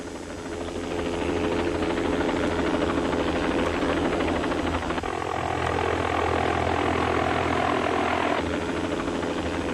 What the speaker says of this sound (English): Within 5 minutes, the helicopter was on the scene.